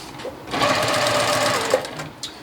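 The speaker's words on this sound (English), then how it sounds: "We will have a setup where we're looking at the actual creation of the half square" A sewing machine stitches half square triangle quilt pieces in one close, steady run of rapid needle chatter lasting under two seconds, with faint clicks before and after.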